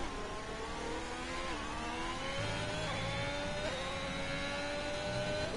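Ferrari race car engine in a racing video game, accelerating steadily with rising harmonic whine and gear changes, loud and continuous throughout, racing on the Bahrain circuit.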